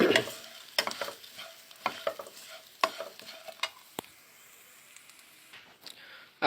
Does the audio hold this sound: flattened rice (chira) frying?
yes